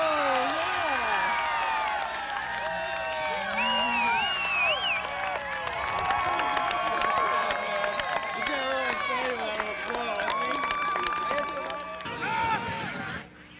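A crowd watches an ultimate frisbee game in the Portland Ultimate League, with a lively mix of shouts, cheers and chatter and some scattered clapping and whoops, voices overlapping throughout.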